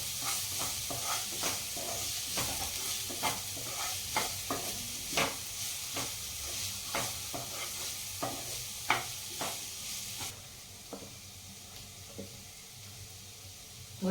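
Onions fry in a pan with a quiet continuous sizzle under repeated scraping stirs of a spoon, the stirring stopping near the end and leaving the faint frying alone.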